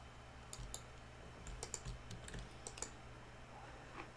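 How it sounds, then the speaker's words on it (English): Soft, sparse clicks of typing on a computer keyboard, heard faintly in short bursts over a quiet room hum. "So I'm going to type that in and see what happens."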